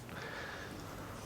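A clay bar rubs across textured plastic trim on a Chevy Tahoe during a hand wash-and-protect detail, giving a steady, close, gritty scraping hiss with no talking.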